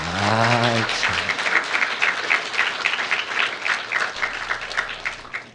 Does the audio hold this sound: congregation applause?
yes